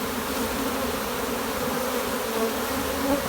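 A honey bee swarm moving into a hive box makes a dense, steady buzzing drone that holds close and even throughout, with no voices over it.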